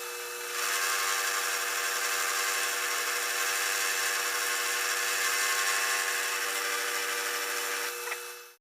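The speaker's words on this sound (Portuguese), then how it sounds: "nós vamos passar uma fresa de 5 mm para chegar na medida correta" A 5 mm milling cutter cuts an oblong slot in a metal part, producing a steady, close, high-pitched grinding whine that holds unbroken for about eight seconds before stopping abruptly.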